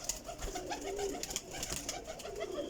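Young Teddy pigeons coo softly in short repeated calls, close by, over a steady faint background hum.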